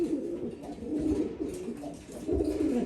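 A Belgian pigeon coos in low, repeated throaty bursts, fairly close and steady, with faint background noise and no clear talking.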